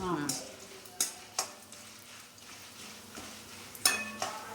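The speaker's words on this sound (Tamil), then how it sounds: "வரமிளகா கொஞ்சம் வறுத்ததுக்கப்புறமா வேர்க்கடலை" Peanuts fry with dried red chillies in a pan for pulikaychal, a soft sizzle under several sharp spatula scrapes and clinks against the pan, close and moderately quiet.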